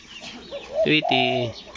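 A zebra dove coos close by in a short run of soft, rounded calls that rise and settle, against a quiet background.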